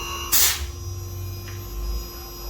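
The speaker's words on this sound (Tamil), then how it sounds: "செகண்ட்லேருந்து தேர்ட் ஸ்பீடுக்கு மூவ் ஆகுது கம்ப்ரஸரு" A steady low mechanical hum of a running compressor, with a short loud hiss near the start and a faint tick later.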